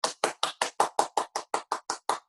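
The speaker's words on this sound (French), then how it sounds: "levez la main, levez l'autre main et on applaudit" Eleven single sharp hand claps in a steady, even rhythm, close and alone, from a classroom-style quiz game for school kids.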